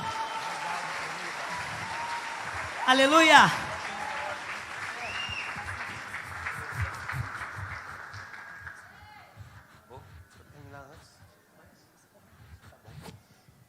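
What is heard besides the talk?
church congregation applauding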